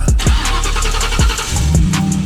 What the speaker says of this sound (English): Give y'all a little cold start.